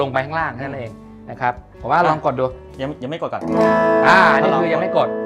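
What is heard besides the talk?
No distinct noise like a dog, phone or traffic.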